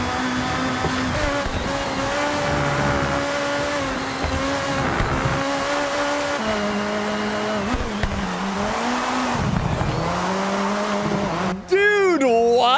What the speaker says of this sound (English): Listen to the sound of the curb up here.